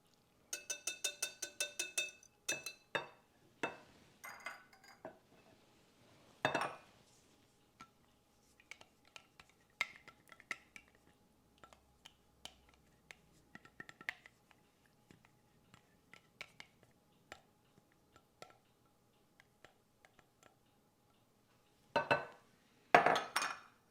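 Wet and dry cornbread muffin batter is mixed in a bowl with a utensil that knocks and clinks against the side in quiet, irregular bursts, with a few louder scrapes and near-silent gaps.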